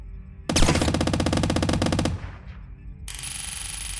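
Loud rapid automatic gunfire from the Squirrel with a Gun video game, a sustained burst of about a second and a half that cuts off into a fading echo, followed by a steady electronic hum.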